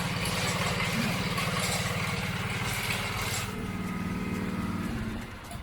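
A Barreto 712MTH compact chain trencher with hydraulic drive runs steadily up close, its engine giving a loud, even drone with a constant hum, easing slightly toward the end.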